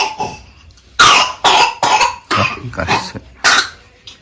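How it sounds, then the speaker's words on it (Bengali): A series of harsh, loud coughs close by, about six bursts in irregular succession with brief pauses between them. "খুব কাশি হয়েছে"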